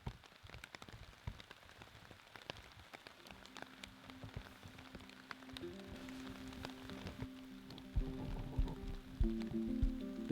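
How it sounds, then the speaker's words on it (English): Light rain patters steadily on a tarp over a riverside campsite, a soft dense drizzle of tiny drops with some brighter, louder taps and a faint tonal hum building toward the end. "The sound of light rain hitting the tarp was a very relaxing way to wake up"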